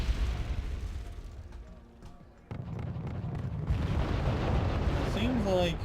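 Napalm strikes and explosions rumble through a match of the real-time strategy game Wargame Red Dragon, a continuous heavy low roar with a sharp burst midway, heard beneath a commentator's voice.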